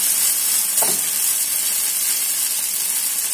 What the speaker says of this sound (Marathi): आता ह्या पॅनमध्ये ते टाकून घेऊयात